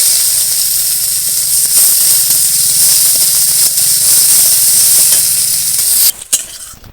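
Chopped onion hitting hot oil spiced with whole cumin and cardamom, a loud steady sizzle and hiss with faint stirring, cut by a few clanks near the end.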